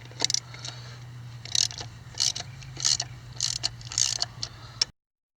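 A ratchet wrench loosens the 9/16 bolts on the hub cover plate of a 1962 Willys CJ-5, in short bursts of close, rapid clicking separated by brief pauses.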